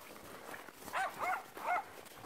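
Small dog barking in three short, pitched yaps heard at a moderate distance outdoors during a walk with huskies, over a light background of ambient noise.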